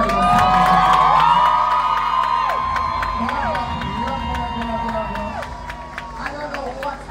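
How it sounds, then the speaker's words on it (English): A party crowd in Jamaica cheers, whoops and applauds, with excited voices and scattered clapping staying loud throughout before easing slightly toward the end. "I just want to give Ramesh a round of applause."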